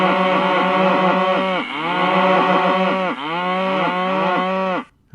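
Cows moo in long, drawn-out calls triggered as stream chat alerts, several overlapping and repeating back to back, loud and continuous before cutting off abruptly.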